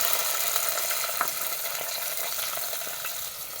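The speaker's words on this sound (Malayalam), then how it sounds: "ഇതൊന്ന് നന്നായിട്ട് വഴണ്ടി വരുന്നത് വരെ ഇളക്കി കൊടുക്കണേ" Small shallots and an onion sauté in hot oil with mustard seeds and fenugreek, giving a constant close sizzle with faint stirring clicks and no voices.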